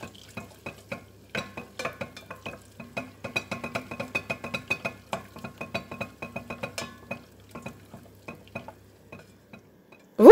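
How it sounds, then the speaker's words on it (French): Butter, about 100 g, melts in a pan, heard as soft sizzling under a long run of quick clinks and scrapes from a utensil stirring against the pan, fairly quiet and close, with no talking. "Je commence par faire fondre 100 g de beurre."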